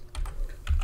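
Fingers type a web address on a computer keyboard: a quick burst of several light key clicks in under a second, close and clear.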